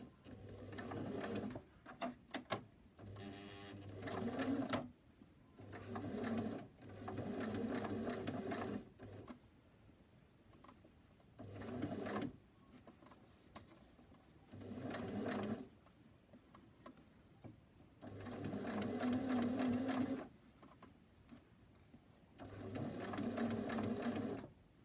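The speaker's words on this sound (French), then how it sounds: "Je vais commencer par, comme d'habitude, 2-3 points arrière et je vais suivre le sillon de la couture sur quelques centimètres" Sewing machine stitching through the layered seam of a fabric face mask, starting and stopping in short whirring bursts of a few seconds each, separated by quiet pauses.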